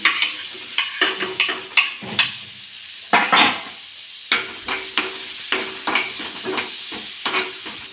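Butter, garlic, green chilli and onion frying in a pan for vegetable Maggi noodles, a spatula stirring in a steady rhythm of scrapes over a soft sizzle, close and fairly loud, with no talk.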